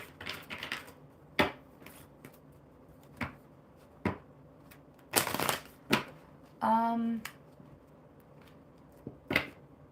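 Quiet riffling and snapping of oracle cards in short bursts, with scattered clicks and a brief tonal blip, close by.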